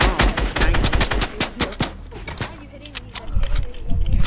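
Rapid gunfire in Fortnite, a dense run of sharp broadband cracks clustered in quick bursts, loud and close, with talk mixed in and more scattered shots near the end.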